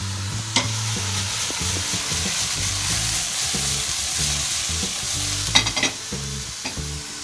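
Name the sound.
frying choy sum with sweet sticky sauce in pan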